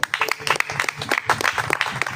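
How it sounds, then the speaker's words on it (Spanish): A church congregation applauds in praise during a worship service, with quick, uneven, fairly loud clapping for about two seconds and voices mixed in. "denle un aplauso al Señor."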